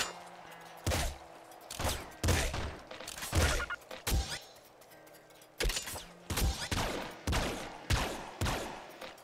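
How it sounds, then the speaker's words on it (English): The pop gun fires repeatedly in the video game Nuclear Throne, giving bursts of sharp, crackling shots in irregular clusters with short pauses between, loud and close over faint game background. "Pop gun."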